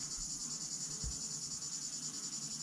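Small honeybees buzzing steadily around their hive outdoors near a lake, a continuous high insect drone close by with no voices.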